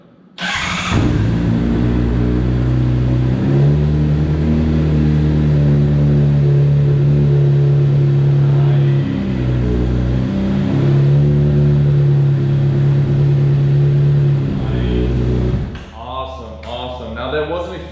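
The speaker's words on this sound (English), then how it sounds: "So I primed it a few times, so let's see if this thing fires up." A motorcycle that has sat idle for six months is primed, then cranks, catches and settles into a loud, steady idle with slight revs. It cuts off near the end, and a voice follows.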